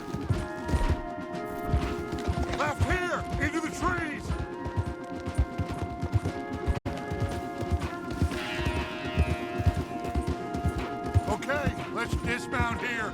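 Horses gallop hard in Red Dead Redemption 2 with a continuous rapid clip-clop of hooves. Game voices, a sharp crash and a musical score play over the pounding hoofbeats.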